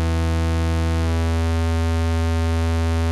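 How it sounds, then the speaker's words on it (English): A pulse wave from the EDU VCO synthesizer oscillator, built as a makerspace synth project, holds one steady, buzzy tone with a dense harmonic stack, with faint timbral sweeps passing through it, alone and at a constant level. "and this is the pulse wave."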